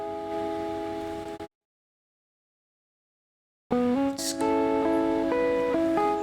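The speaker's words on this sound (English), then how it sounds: "I just have the guitars straight plugged in the interface," A dry electric guitar, plugged straight into an audio interface with a cab simulator, plays sustained chords and picked melody notes, stops dead for about two seconds, then resumes with a busier run of notes.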